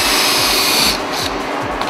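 A power drill bores into ice, whining loud and close, then drops to a lower, rougher grind partway through as the bit works in.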